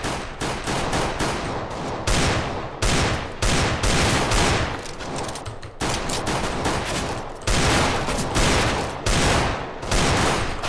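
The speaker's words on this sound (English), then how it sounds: "They're shooting at us." Rapid gunfire in the Counter-Strike video game survival mod, with dense volleys of loud, close shots firing almost continuously in repeated bursts separated by brief gaps, with no talk.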